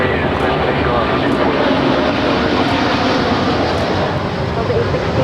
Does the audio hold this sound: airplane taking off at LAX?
yes